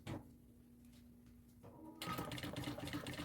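A sewing machine stitching a bag lining to the main body: a faint steady hum with a few soft mechanical taps, then a louder continuous whirring run of fast stitches.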